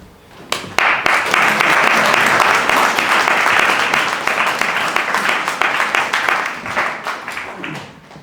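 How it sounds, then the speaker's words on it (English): Audience applause for a guest speaker at a men's health gathering, dense steady clapping from a room of people that starts abruptly, holds loud for several seconds, then thins toward the end. "I'm not sure I need a clap for checking my balls, but there we go."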